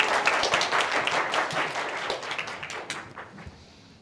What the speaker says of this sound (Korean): 다시 한번 환영의 박수를 부탁합니다